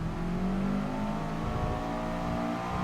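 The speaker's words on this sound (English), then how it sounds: "everyone said that this game had a better engine sound" A Subaru Impreza Coupe WRX Type R STI Version VI engine in Gran Turismo Sport revs steadily at high pitch, its rising whine sustained throughout with a faint mechanical whir beneath.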